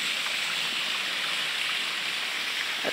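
Continuous rushing of flowing river water near Mayhay Bridge in Majayjay, Laguna, a steady broadband wash with no voices.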